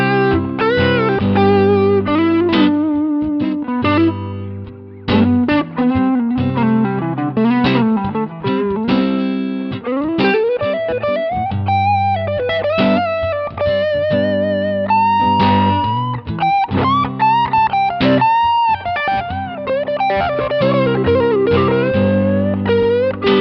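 Electric guitar plays through an HX Stomp preset with a 63 spring reverb, a continuous lightly driven melodic passage of picked notes, bends and chords with a reverb tail, loud and alone.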